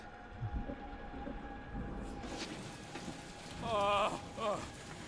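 Rain patters steadily in a Guardians of the Galaxy video game scene, a soft wash of noise under game sounds, with a brief louder burst and character voices partway through.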